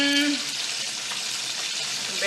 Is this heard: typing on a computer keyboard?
no